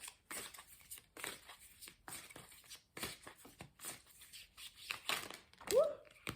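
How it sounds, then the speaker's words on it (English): Tarot cards are shuffled in repeated quick riffling bursts, a soft rhythmic papery flutter at close range, with a brief vocal sound near the end. "let's have a little shuffle"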